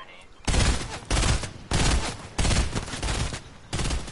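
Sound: gunfire from the video game Fortnite

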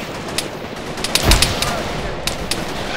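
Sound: return gunfire in the video game Arma 3

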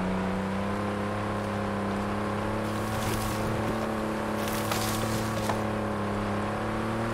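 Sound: car engine driving off-road in video game Forza Horizon 5

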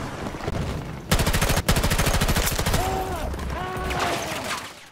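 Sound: gunfire in the video game Battlefield 2042

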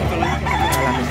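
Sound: rooster crowing at a livestock market

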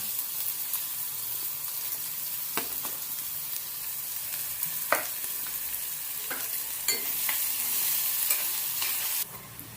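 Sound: onions sautéing in oil

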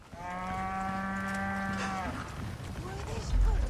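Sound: cow mooing in Resident Evil 4 video game

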